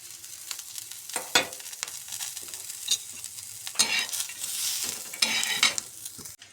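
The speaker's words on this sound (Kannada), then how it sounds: "ಇದು ಸ್ವಲ್ಪ ಎಣ್ಣೆ ಹಾಕಿ ಇವು ಮೂರು ಹುರ್ಕೊಂಡ್ಬಿಡೋಣ." Green chillies, ridge gourd peel and peanuts roast in a little oil for chutney, a close, soft sizzle punctuated by repeated scraping stirs of a spatula in the pan.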